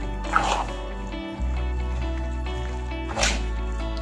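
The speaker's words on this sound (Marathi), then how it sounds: "असं चांगलं मळून घ्यायचं असं।" A hand kneads wet flour batter in a bowl to break up lumps, for thin, lacy Marathwada-style dhirde. Two soft, close squelches stand out over a steady background hum.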